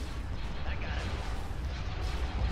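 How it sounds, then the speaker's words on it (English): Ion cannon fire pounds Imperial Star Destroyers in a Star Wars: Empire at War space battle: a dense, continuous rumble of booming blasts and bursts, loud and unbroken throughout. "that ion cannon is just wreaking havoc on my Star Destroyers."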